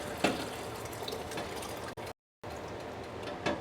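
Hot water streams and splashes off glass canning jars of tomatoes as they are lifted out of a canning pot, a steady close pour with a brief break partway through.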